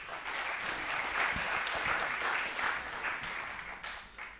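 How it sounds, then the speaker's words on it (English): A conference audience gives a speaker a warm round of applause, dense continuous clapping from a roomful of people that holds steady and then begins to fade. "give him a small applause for starting up"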